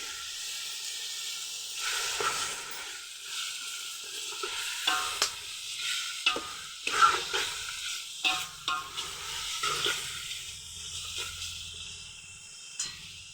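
Mutton sizzles and hisses loudly in a pan after water is added, with steady frying noise and repeated stirring scrapes throughout, no voices.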